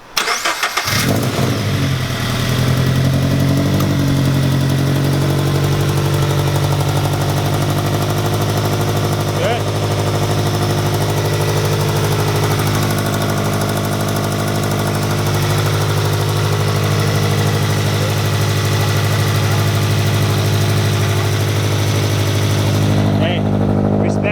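A newly swapped engine in a Lexus IS300 cranks and catches, then settles into a steady, loud idle that runs without a break, close to the microphone.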